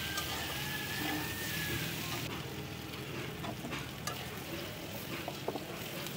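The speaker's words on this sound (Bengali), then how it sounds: "একদম লাল লাল করে আলুগুলোকেও ভেজে তুলে নেব।" Potatoes frying in hot oil for a katla fish curry make a loud, dense, continuous sizzle and hiss close by, with occasional sharper pops and a faint clink near the end.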